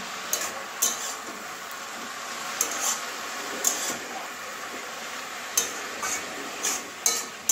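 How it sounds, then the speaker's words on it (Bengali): Potatoes, eggplant and onion being stirred in a pan with amaranth greens, a spoon scraping and knocking against the metal in irregular clinks over a steady low sizzle, close and moderately quiet. "এবারে ভালো করে মিশিয়ে নেবো আলু বেগুন পেঁয়াজ কলি সব কিছুর সঙ্গে।"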